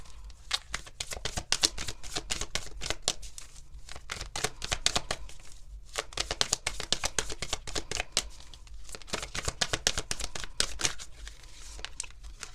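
Tarot cards shuffled by hand in a series of quick, crisp riffles and slaps, close and fairly quiet, with a short pause partway through.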